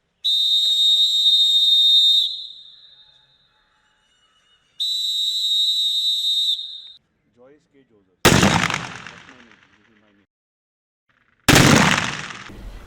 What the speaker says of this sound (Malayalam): ചേർത്തല റൈഫിൾ ക്ലബ്ബിലായിരുന്നു ഷൂട്ടിംഗ് പരിശീലനം ഒരുക്കിയത്.